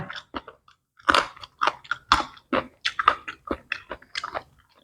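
Close, wet chewing and crunchy bites while eating stir-fried noodles (pad see ew), coming in irregular mouthy bursts separated by short silences, with no talk.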